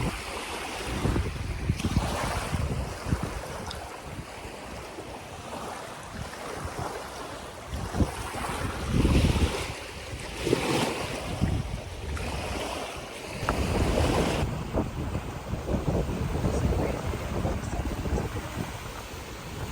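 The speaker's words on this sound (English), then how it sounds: "He's fascinated with these waves." Ocean waves roll and break on a grey, overcast shoreline, a steady broadband wash with surging peaks, mixed with gusty wind buffeting the microphone throughout.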